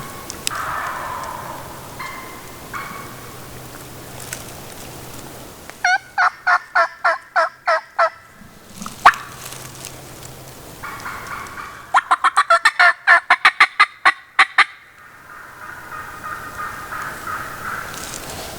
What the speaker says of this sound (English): there's an old boss hen with these gobblers